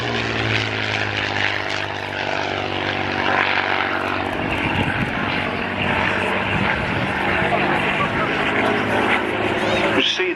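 Supermarine Spitfire Mk XI photo reconnaissance aircraft flying a display at the RAF Cosford Air Show, its propeller engine droning loud and continuous with shifting pitch as it passes, and a voice talking over it.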